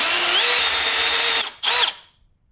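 A power drill bores into a broken bolt on a BMW E9X/E82, whining loud and steady, then briefly stopping, surging once more and spinning down to silence.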